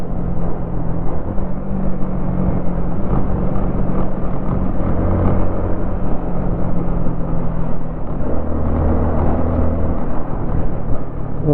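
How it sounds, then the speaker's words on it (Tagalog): Yamaha Sniper motorcycle with a stock exhaust, heard while riding: a steady, loud engine drone mixed with broadband wind rush, and a few low tonal hums rising and falling, continuous throughout with no talk. "Masarap sa tinga yung tunog ng Sniper."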